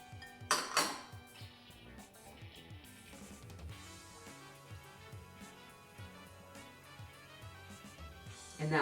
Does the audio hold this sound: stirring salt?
yes